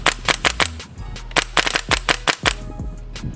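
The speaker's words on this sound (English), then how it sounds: "it's actually shooting, it's working, it's cycling every BB" An airsoft WE MSK gas blowback rifle converted to run on HPA fires in quick bursts of sharp, loud cracks, each shot cycling the action, with brief gaps between strings of shots.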